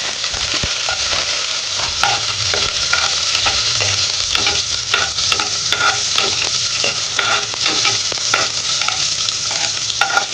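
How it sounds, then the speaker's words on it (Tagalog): Chopped garlic sizzles and spatters in hot cooking oil at the start of a fish tinola, with a steady loud crackle broken by sharp pops and the scrape of stirring, close up and with no talking. "Igigita na po natin yung bawang."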